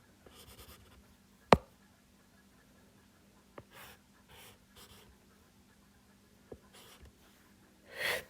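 A fine-tip pen scratches quietly across paper while doodling, in a few short strokes and taps separated by gaps, with soft breathing and an occasional sharp click nearby.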